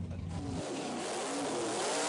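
A dragster engine roars loud and steady at the start line of a drag race, its note rising a little as it revs, with no talk over it.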